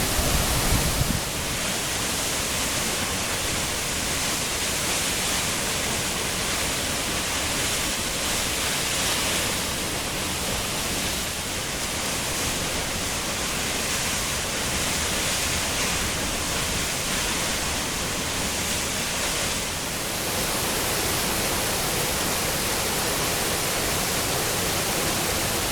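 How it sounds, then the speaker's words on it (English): Mooney Falls in the Grand Canyon pours in a steady, loud, broadband roar heard from its base, unbroken and close throughout with no talking. "here we are at the base of Mooney Falls."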